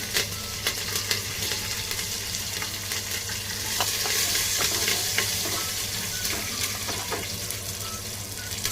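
Garlic, curry leaves and mint frying in oil in a pan, a steady close sizzle with occasional light scrapes and clicks of a stirring utensil, no voices over it.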